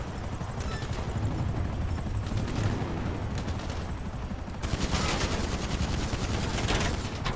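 Rapid AP pistol gunfire in GTA 5 Online, dense bursts of shots over a constant loud rotor-like drone, intensifying into heavier continuous firing in the second half.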